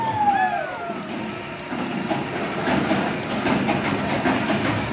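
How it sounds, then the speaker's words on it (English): Afterburn roller coaster train rolling into the station at Carowinds on a cold day, a steady rumble and rattling clatter with faint screeching tones early, continuous at moderate distance amid crowd murmur. "The next train comes in right away."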